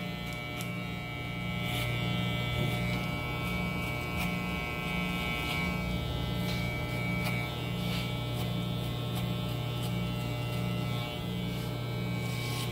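Electric hair clipper fitted with a number 2 guard running steadily at close range while trimming the hair at the nape of a man's neck, a constant motorized buzz over mains-like hum with faint cutting texture throughout.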